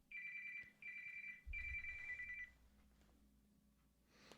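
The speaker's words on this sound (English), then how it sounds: "That was Greg's phone. Shut it off." A mobile phone rings in three bursts of a steady electronic tone, fairly faint and in a quiet room, then falls silent.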